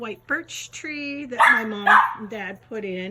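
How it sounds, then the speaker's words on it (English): A pet dog barks in a small late-summer home garden, short yaps breaking in among a person's steady nearby talking. "I'm sorry about my dog barking."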